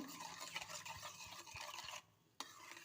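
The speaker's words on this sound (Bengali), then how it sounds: "হাফ চামচের কম ইস্ট দু চামচ চিনি অল্প একটু নুন দিয়ে সব উপকরণ ভালো করে মিশিয়ে নেব" Dry dough ingredients with a little yeast, sugar and salt being stirred together in a bowl for custard cream buns, a run of rhythmic scraping strokes up close, pausing briefly before one last stroke.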